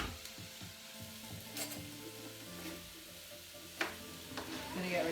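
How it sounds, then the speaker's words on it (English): Curry of sweet potato, red lentils and spinach stirred in a frying pan: a soft continuous sizzle with gentle scraping and a few light clinks of the utensil against the pan, quiet and close. "Just make sure you keep stirring."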